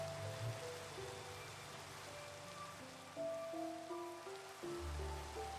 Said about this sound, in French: Avec la pluie.